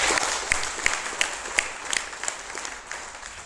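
Audience applause at a talk or seminar, a steady wash of many hands clapping with scattered sharper claps, fading slightly toward the end.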